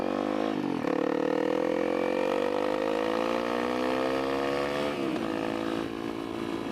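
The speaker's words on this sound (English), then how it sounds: "She's popping back through the exhaust just a little bit" A 2017 Honda CRF250L motorcycle engine revs and holds a steady drone, winding down with faint popping and crackling from the exhaust as it decelerates.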